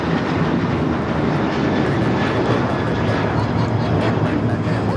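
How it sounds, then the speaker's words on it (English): An American Airlines Boeing 737-800 taking off at LAX, a loud, steady, broad jet engine roar that holds level throughout, heard from nearby at the airfield. "American Airlines 1994 taking off to Phoenix on the 737-800."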